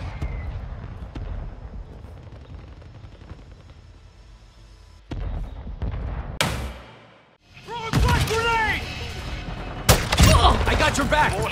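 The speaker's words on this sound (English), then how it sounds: "Mortar strike inbound." Mortar strike explosions in Call of Duty MW2, a sequence of loud booms with a sharp blast around the middle and more impacts near the end, over game noise, with voices talking in the background.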